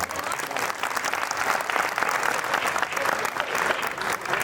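An audience at a kavi sammelan poetry recital claps in a sustained, dense round of applause, moderately loud and steady from start to finish, with faint crowd murmur beneath.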